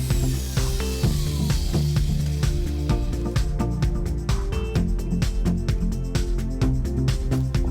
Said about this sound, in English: Place jig on project and drill your hole.